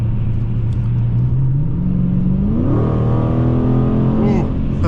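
A 2017 Dodge Challenger Scat Pack 392 Shaker at close range: a low engine drone climbs under acceleration, then the revs jump with a sharp downshift and it keeps pulling hard, loud and continuous, with someone speaking over it.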